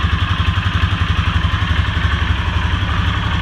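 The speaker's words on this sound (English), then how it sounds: "Sounds pretty good with the stock exhaust." A Polaris Sportsman 570 ATV on its stock exhaust idles close by with a steady, loud, pulsing thump and rhythmic chug throughout.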